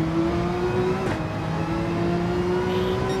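A Porsche race car in Gran Turismo 7 at the Nürburgring accelerates smoothly, its engine a steady, loud drone that rises gradually in pitch with no voices over it.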